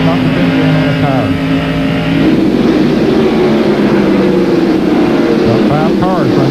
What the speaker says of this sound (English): About 5 cars running right there together.